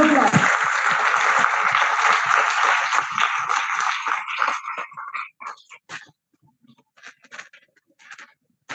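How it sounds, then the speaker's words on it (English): An audience at a fireside chat bursts into dense, steady applause that gradually thins into scattered individual claps before fading out. "I request the audience to show your excitement with a huge round of applause"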